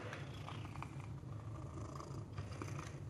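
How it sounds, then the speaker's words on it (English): Steady low rumbling purr from a cat close by, continuous and quiet, with faint kitchen clinks in the background. "You hear him purring right now?"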